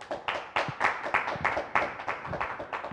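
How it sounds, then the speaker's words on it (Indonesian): Scattered applause from a small audience on a talk show, honoring retired Indonesian Air Force Marshal Chappy Hakim; irregular individual claps ring out moderately close, loosening into a ragged patter over a few seconds. "Tepuk tangan untuk Marsikal Cepi Hakim"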